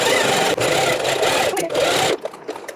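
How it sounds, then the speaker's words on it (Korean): A sewing machine runs steadily for about two seconds, stitching the width seam of a fabric hair scrunchie with the right sides facing, then stops abruptly, leaving a few faint handling sounds. "재봉틀로 박아줄게요"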